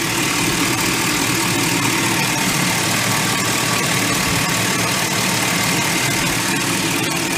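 Chevrolet Silverado GMT800 pickup engine idling right after a water pump replacement, a loud, steady, even idle close by with no talking.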